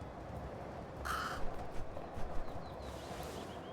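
A crow in the video game Little Kitty Big City caws a few times, faint and somewhat distant, over a low ambient background with soft footstep-like thuds.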